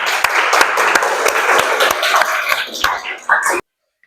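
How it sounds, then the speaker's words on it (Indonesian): A class of students applauds in a dense burst of clapping with chatter mixed in, and it stops abruptly after about three and a half seconds. "Tepuk tangan buat kita semua."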